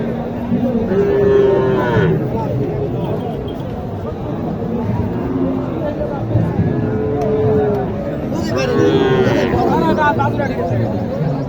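Sahiwal cattle at a busy cattle market in Naogaon. Several drawn-out moos rise from nearby animals over a constant murmur of people talking and crowd noise.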